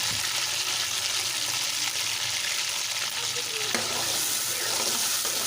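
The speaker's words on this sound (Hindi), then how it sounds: "कढ़ाई के अंदर घी को डालें, अच्छी तरह से गर्म कर लें।" Ghee heats in a kadai with a steady hiss and crackle, loud and continuous, broken by a faint sharp clink partway through, and no voices.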